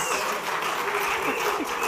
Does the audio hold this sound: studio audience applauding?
yes